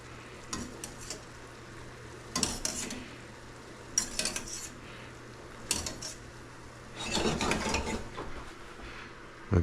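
Gnocchi being stirred into a creamy pea and mushroom sauce in a pan, with scraping utensil strokes, clinks against the metal and a soft sizzle underneath, coming in a few separate bursts.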